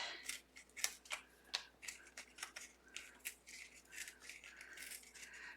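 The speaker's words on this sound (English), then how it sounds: "And just rip them round." Tissue paper ripped apart by hand for a winter craft wall hanging: a quiet, close series of short, crisp tearing rips in an uneven rhythm, with no voices.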